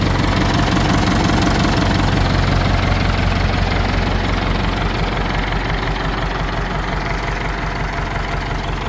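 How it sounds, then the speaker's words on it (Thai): An old tractor engine fitted with a rotary tiller runs steadily on its own, a loud, even low-pitched idle with a soft rhythmic knock that carries on unchanged throughout. "ดูครับเครื่องสวยๆเลย เครื่องนิ่ม ๆ เลยนะฮะลองฟังเสียงดู"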